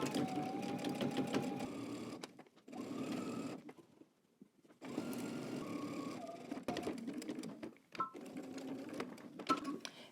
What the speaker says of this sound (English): we're going to go ahead and stitch our collar band down to our neck using 5/8 of an inch seam allowance